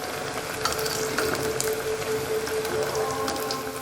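Onion and brinjal bajji deep-frying in hot oil, a steady close bubbling sizzle with fine crackles running throughout, no voices.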